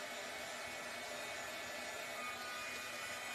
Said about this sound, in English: let me dry this ink a little bit. I'm going to dry this one at the same time.